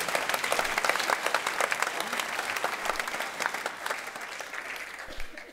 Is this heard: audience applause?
yes